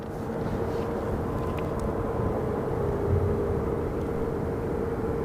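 A Southwest airliner on final approach at Phoenix Sky Harbor Airport makes a steady, broad jet roar with a low rumble and a faint whine, heard from a distance and holding even throughout.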